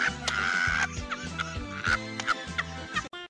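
A Minecraft chicken clucks in quick, close bursts over a steady rhythmic low electronic backdrop, the clucks repeating irregularly throughout and ending in a choppy cut-off.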